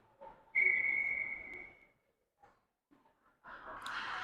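Referee's whistle at a U13 elite AAA youth ice hockey game gives one loud, sustained blast of over a second, followed by quiet and then a rise of rink and crowd noise.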